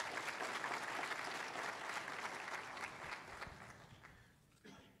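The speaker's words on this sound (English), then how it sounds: "Oak City, please give our visitors a round of applause." Church congregation applauds visitors in a steady, dense wash of clapping that gradually fades out over several seconds.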